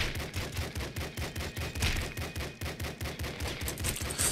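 In Nuclear Throne, a rapid-firing non-revolver gun rattles off a steady, evenly spaced stream of loud shots, continuous throughout without pause.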